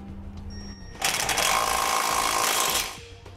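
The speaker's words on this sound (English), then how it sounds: "we can get in there and we can tighten up our bolts" A 2013 Smart fortwo base plate kit is bolted up with a socket, universal joint and extension, as a power tool rattles hard for about two seconds in a loud, close burst and then stops.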